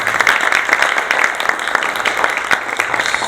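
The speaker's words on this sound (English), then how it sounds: "Give her another round of applause." An evening audience gives a dense, steady round of clapping that carries through the whole stretch at a loud, even level.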